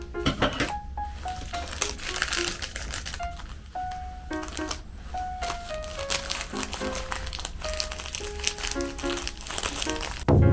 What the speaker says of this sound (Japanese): このパッキンが入ってたこの袋も結構音シャコシャコなっていい感じやと思う